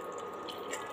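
Water pours into a simmering tomato kuzhambu (curry) on the stove, a brief, faint wet splashing and trickling with no voices.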